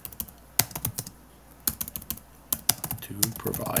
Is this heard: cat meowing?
no